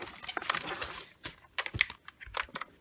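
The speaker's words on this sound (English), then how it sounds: "This keyboard sounds amazing." Close, crisp typing on an E Elemend Z-88 104-key mechanical keyboard with blue switches, a quick burst of sharp clicky keystrokes followed by scattered individual presses.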